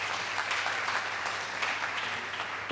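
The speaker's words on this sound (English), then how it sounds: "So let us give a round of applause to the provost." Audience applause for the provost at a health and wellness symposium, a steady wash of clapping from a hall, fairly soft and even across about three seconds.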